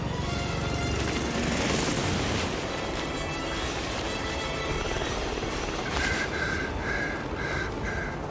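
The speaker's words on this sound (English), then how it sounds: "helicopter just took off" A video-game helicopter lifts off with a loud, dense rotor and engine roar that holds steady throughout, with a faint high whine near the end and no voices.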